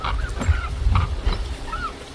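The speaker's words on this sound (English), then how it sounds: "Turkeys are kind of wondering what's going on." Turkeys near a house threatened by forest fire give several loud, close honking calls in quick succession, with brief gaps between them.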